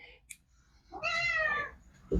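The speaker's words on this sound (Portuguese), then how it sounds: "Agora minha gata resolveu aqui dar as caras aqui." A domestic cat gives one clear, drawn-out meow close by, preceded by a brief higher chirp, in an otherwise quiet room.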